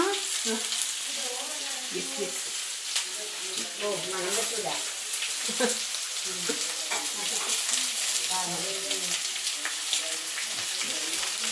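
Sliced onions for an egg roast fry in a pan with a steady, close sizzle and occasional stirring scrapes, while someone talks over it throughout.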